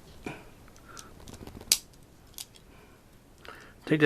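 Transformers G1 Overdrive plastic toy being folded out, a few sharp close clicks and snaps of moving parts spaced apart in a quiet room, with faint speech.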